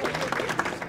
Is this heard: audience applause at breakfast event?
yes